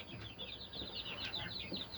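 Pekin bantam chick about six weeks old, peeping and chirping continuously in rapid, high bright calls that run throughout, close by, with other faint chicken clucks underneath.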